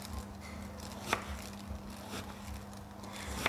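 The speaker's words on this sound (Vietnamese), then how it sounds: "bây giờ mình cắt lại thành những cái lát mỏng như thế này" Knife slicing breadfruit into thin slices on a cutting board, a few soft, sparse chopping taps over quiet kitchen background.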